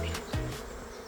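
Bees from a swarm buzz faintly, with a brief louder rising hum as one passes close, then a soft steady drone.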